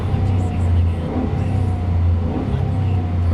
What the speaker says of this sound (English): It revs up nicely and idles smoothly.